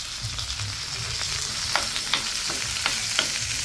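Onion, green chili, ginger and garlic frying together in oil, an even hiss of sizzling with scattered crisp pops and crackles, close and steady with no speech.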